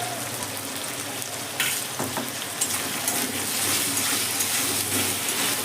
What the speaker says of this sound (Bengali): নুন দিয়ে মশলার সঙ্গে টমেটোটাকে ভালো করে আমি নেড়ে এবার একটু হতে দেবো